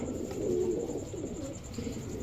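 Saharanpuri and Royal Teddy pigeons, a male and female pair offered for sale, coo steadily in a soft, low, continuous murmur close by, with no voices over it.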